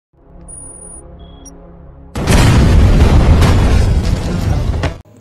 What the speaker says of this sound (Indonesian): Don meledakkan bom.